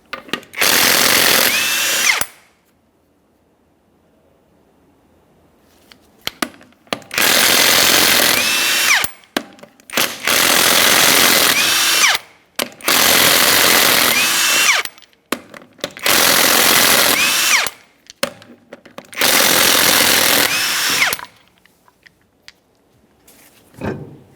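An impact wrench spins off the lug nuts of a rear wheel on a 2004-2008 Ford F-150 pickup, six loud, close whirring bursts of a few seconds each, separated by short quiet gaps.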